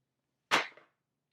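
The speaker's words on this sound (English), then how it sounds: "is where I have to roll the dice" Dice tossed onto a table during a This War of Mine board game, a single sharp clatter that tumbles briefly and stops, close and alone.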